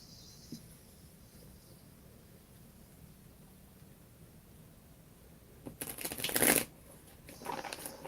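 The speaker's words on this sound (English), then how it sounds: "I'm just gonna shuffle a few here." Tarot cards are shuffled by hand. A quiet stretch gives way to a brisk, close riffling burst, followed by a second shorter shuffle at the end.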